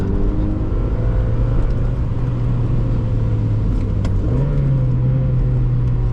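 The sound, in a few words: 1999 Mazda Miata driving on wet road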